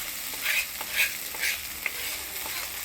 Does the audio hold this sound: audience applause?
no